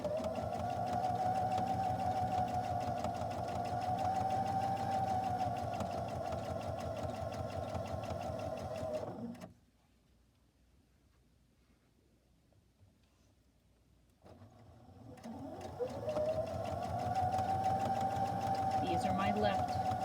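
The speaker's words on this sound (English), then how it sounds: "now I'll take it over to the sewing machine" A sewing machine runs with a steady mechanical whir, stops for about five seconds midway, then starts stitching again at the same even pace.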